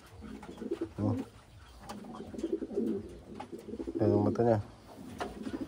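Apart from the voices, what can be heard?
pigeons cooing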